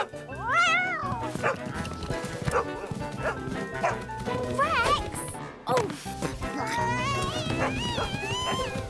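A dog barks and yips repeatedly in short, sharp bursts, close by, with a person speaking and background commotion throughout.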